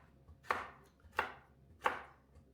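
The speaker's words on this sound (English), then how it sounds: "I'm saving time and effort by dicing them now." Three crisp knife chops land evenly on a cutting board as carrots are diced, each a sharp close thunk followed by quiet, with no talk.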